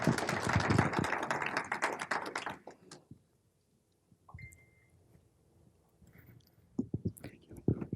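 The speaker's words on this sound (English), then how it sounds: "So let's give him a big round of applause." Applause from an audience welcoming a speaker at an evening talk, a dense burst of clapping that fades out, followed by quiet and a few scattered sounds.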